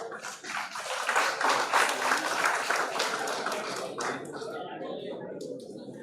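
An audience at a college project expo valedictory event applauds the winners with dense, loud clapping that swells and then gradually fades, with some voices underneath.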